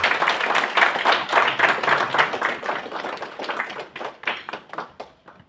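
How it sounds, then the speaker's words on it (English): An audience at a Kenya homes expo breaks into dense, lively applause that holds steady, then thins into scattered individual claps and fades near the end. "A round of applause to Enjoy Homes."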